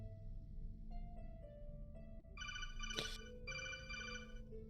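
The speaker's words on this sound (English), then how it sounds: "Vico, why is your phone going off?" A phone going off with a bright, repeating electronic ring in two bursts, moderately loud over a low background hum.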